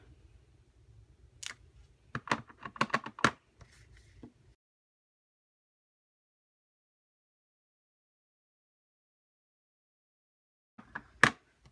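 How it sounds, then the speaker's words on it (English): A rubber stamp is inked and pressed onto scratch paper in a card-making session: a cluster of sharp, close taps and clicks, then long silence before one more crisp tap near the end. "I'm going to ink it up, stamp it off, and then stamp it down"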